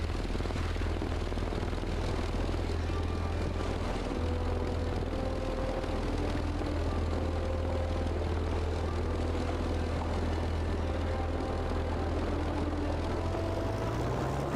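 A propeller plane engine in a video game drones steadily and evenly throughout, a fairly quiet continuous hum with low tonal layers and no talking.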